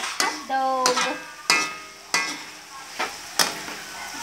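Ground beef, onion, garlic, mushroom and hot dog frying together in a pan for spaghetti sauce, with a sizzle under repeated metallic scrapes and clanks of a spoon stirring at an irregular pace, close by.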